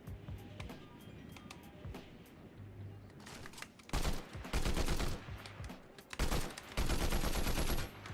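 Gunfire in the video game Fortnite crackles in bursts, quieter scattered shots at first, then loud rapid volleys around the middle and near the end, with faint voice-like sounds underneath.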